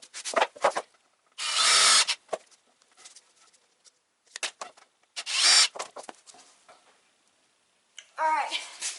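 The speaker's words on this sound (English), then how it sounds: "pre-drill like a ½ inch in on each board" A power drill whirs in short bursts, two loud spins pre-drilling into wooden boards separated by quieter clatter and handling, ending with another brief buzz.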